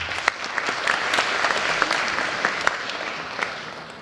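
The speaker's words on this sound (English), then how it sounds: "Please give yourselves a round of applause." A crowd of graduates and guests claps at a high school academic awards ceremony, a dense steady round of applause with a few sharper individual claps standing out.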